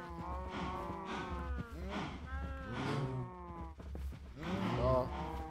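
Minecraft cows moo again and again, several drawn-out, low bellowing calls following one another at moderate loudness, with a pause midway before a louder moo near the end.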